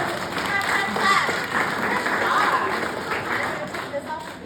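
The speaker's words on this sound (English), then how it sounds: "Give our helper a clap" An audience claps for a child helper at a children's bird program, steady applause mixed with crowd murmur and voices talking over it.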